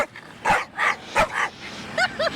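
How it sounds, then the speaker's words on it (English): Several small dogs barking and yipping indoors in an upscale home in The Villages, a burst of sharp separate barks in quick succession with a few higher whiny yips near the end, close and loud. "They never bark until they're in here."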